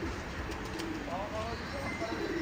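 Soft, low cooing of flying pigeons, including a Neelduma, close by amid a steady background hum, with brief faint clicks early on.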